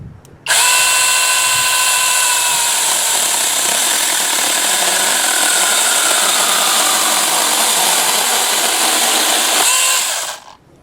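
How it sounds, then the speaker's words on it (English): A NaTiddy cordless 6-inch mini chainsaw bites into wood with a loud, continuous high-pitched whine that holds steady for about ten seconds, then stops abruptly. "So we'll start the saw and start sawing."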